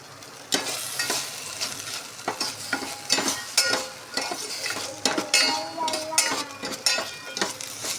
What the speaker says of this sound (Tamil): அதுக்கப்புறம் நம்ம அரைச்சி வச்சுக்கிற தக்காளியை ஊற்றிக்கலாம்.